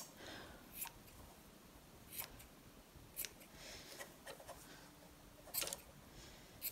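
Scissors snip through the threads of a dyed weaving, giving a few sharp, crisp cuts spaced irregularly apart, close and fairly quiet against a soft, hushed background.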